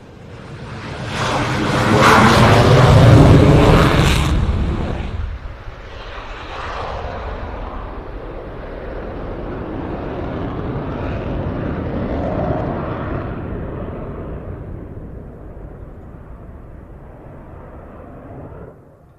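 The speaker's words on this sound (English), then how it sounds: "starting in the typical style of Canadian CF-18 displays with a dirty roll from takeoff" A Canadian CF-18 Hornet jet takes off for a display with a dirty roll, a loud broadband engine roar that peaks early and then settles into a sustained, slightly fading rumble as the jet climbs away.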